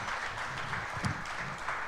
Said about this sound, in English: Hey, about a round of applause for the Outlaw and Anders Carlson tonight.